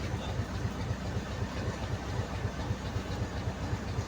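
A large boat engine runs steadily with a low, rhythmic thumping pulse and a constant mechanical hum, moderately loud and without speech.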